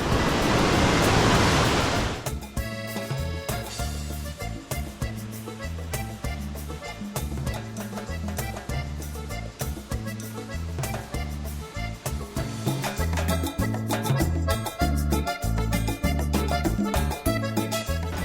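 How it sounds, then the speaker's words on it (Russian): Rushing water of the Rio Blanco river in Mexico, a steady broadband roar heard loudly throughout, with music playing over it and no audible talking. "Здесь я слышу шум воды. Здесь, по всей видимости, идет та самая река Рио Бланко."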